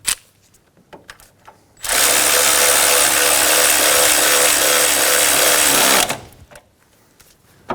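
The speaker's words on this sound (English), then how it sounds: "Once you have the bolt started, snug it down." A power tool, likely an impact wrench or ratchet, drives an engine mount bolt on a 2013-2017 Honda Accord with one loud continuous whirring burst of about four seconds, set between quieter clicks and handling sounds.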